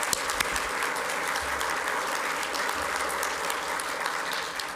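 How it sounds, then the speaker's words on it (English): An audience applauds steadily at an education awards celebration for the 2024 Utah Teacher of the Year. The clapping is dense and even throughout, with no voices over it. "I think she deserves a round of applause for that one."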